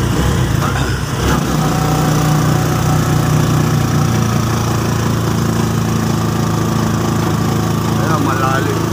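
Motorcycle engine running steadily and loud throughout on a rural ride, a sustained droning hum with a brief rougher burst early on, while people talk over it.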